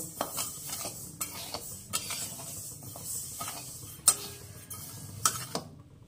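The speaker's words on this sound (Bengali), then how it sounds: "এই ডালটাকে আমি এখন ঝটপট ধুয়ে নেব। ধুয়ে আবার ওই ছাঁকনিতে ছেঁকে একটু শুকিয়ে নিয়ে একটা থালায় ছড়িয়ে দেব।" Lentils being rinsed by hand in a metal bowl and tipped into a strainer, with steady swishing and scraping and a few sharp metallic clinks, close and fairly quiet, no talking.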